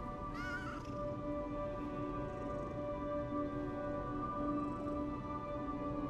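A brief, wavering cat meow near the start rises over a steady bed of ambient music and background tones in the video game Lies of P.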